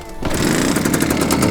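A classic Japanese barn-find motorbike engine catches and runs, a loud rapid rattling putter that starts abruptly and continues steadily, close by.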